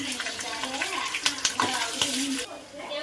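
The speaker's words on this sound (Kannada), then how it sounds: "ನೋಡಿ ಈರುಳ್ಳಿಯನ್ನೆಲ್ಲ ಹಾಕ್ಕೊತಾ ಇದ್ದೀನಿ ಒಗ್ಗರಣೆಗೆ." Onions and chillies go into hot oil for a tempering, with sizzling and stirring scrapes under quiet speech, plus a few sharp clinks of a spoon against the pan.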